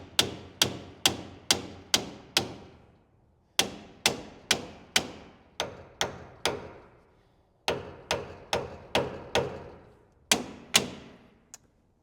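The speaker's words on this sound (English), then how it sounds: "Just gonna tap this straight down, and then that one should just slide right off." A hammer strikes metal in quick bursts of sharp, ringing blows, knocking a part off the axle of a Jeep Gladiator J2000 during lift kit work, close and loud with short pauses between groups.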